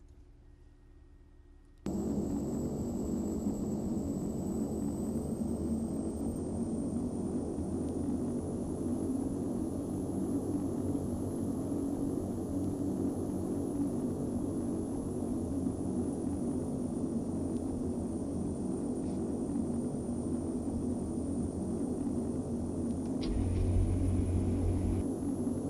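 A steady, droning aircraft engine hums continuously in the flight simulator FSX during a go-around, a constant low rumble with a faint high whine held throughout after a brief quiet start.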